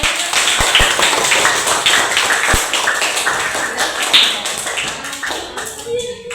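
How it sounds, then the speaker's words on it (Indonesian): A small group claps in a room, loose uneven claps and taps close by, thinning out toward the end. "tepuk tangan untuk teman-teman."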